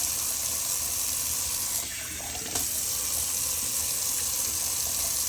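Water from a bathroom tap runs into a sink as a loud, continuous gushing stream, briefly dipping as the flow is interrupted before resuming steadily, with no talk.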